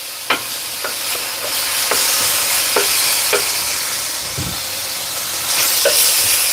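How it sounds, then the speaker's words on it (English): Beef stir fry with peanuts sizzling steadily in a pan, a continuous bright hiss with occasional sharp pops and crackles spread through the clip, no talking. "stir fry."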